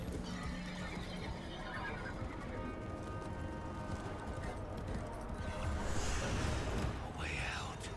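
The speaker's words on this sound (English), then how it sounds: "Can I get on the horse? I can." A horse in the Warframe video game whinnies and its hooves clip-clop in a quick galloping rhythm, layered under game effects and quiet voice talk throughout.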